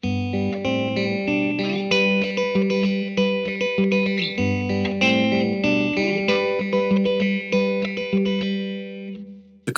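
A thumb-and-index fingerpicking pattern in a song, played on a bright, effects-processed electric guitar: steady alternating bass notes with down and up brushes over changing chords, up close and alone, ending on a ringing chord.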